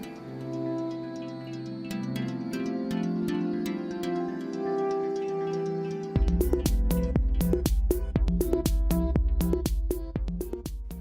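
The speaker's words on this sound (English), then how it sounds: "The sound you are hearing is the rollers trying to move the card in one direction while the NTM is pulled in the other." Fargo HDP6600 card printer rollers straining against stuck lamination film during a delamination fault: a steady mechanical hum and whir, then a sharper run of rhythmic clicking and thumping pulses in the second half, close and alone.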